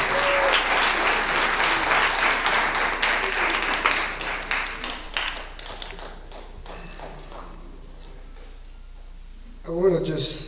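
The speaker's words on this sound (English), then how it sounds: "Please give her another round of applause." Audience at a Black History Month and Afrikan Solidarity community event in Passaic applauds steadily, then the clapping thins and fades out before a voice speaks.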